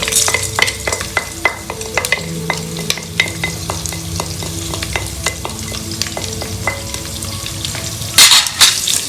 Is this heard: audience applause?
no